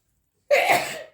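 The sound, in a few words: sneeze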